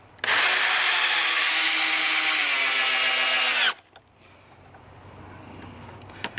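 A cordless power drill whirs steadily for a few seconds, straining slightly as it drives a screw into pallet wood, then stops, leaving quiet handling noises.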